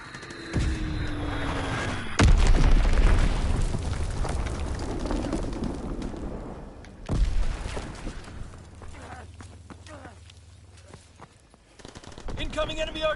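An artillery barrage in a World War II video game, with heavy booming explosions, rumbling aftermath and bursts of gunfire, loud and close, while voices talk over the fighting.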